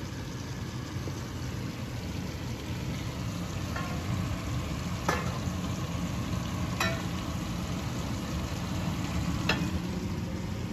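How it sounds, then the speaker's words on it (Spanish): Potatoes frying in a pan while being chopped up with an iron skimmer for a Spanish tortilla: a steady low sizzle with a few sharp scraping taps of the skimmer at intervals. "después la picamos pequeñita con una... tiene que ser una espumadera de hierro, de aluminio, para poderla picar"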